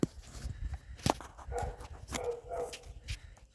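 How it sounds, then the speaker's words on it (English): A neighbour's dog barks outside, a few short sharp yelps and whimpery barks at middle distance mixed with shuffling and clatter from someone working nearby. "Sounds like Eddie's just let his dog out"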